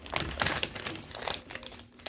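Christmas wrapping paper being folded and creased around a gift, close crinkling and rustling in irregular bursts, fairly soft, no talk.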